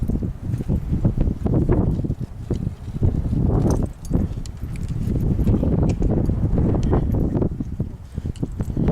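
Hooves of a horse being bridled clip-clop on hard ground close by, irregular steps as the horse shifts and walks on a ranch, with some rustling between hoof strikes.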